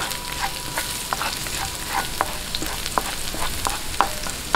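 Sautéing for chicken tinola sa gata, with a steady close sizzle of oil in a pan and sharp scraping stirs landing at a brisk, regular pace, no voices.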